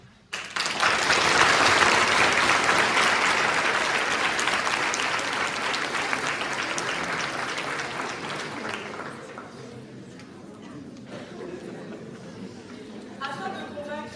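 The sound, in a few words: audience applause at a mock trial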